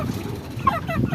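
Wet chickens in the rain make close, throaty clucking and gobbling calls. A dense, steady patter of background noise runs underneath.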